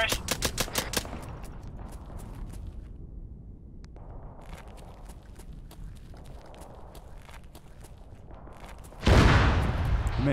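Machine gun fire in the video game Arma 3: a rapid burst of loud shots opens, then the scene settles into a busy battlefield bed with scattered distant reports, and a sharp loud blast near the end.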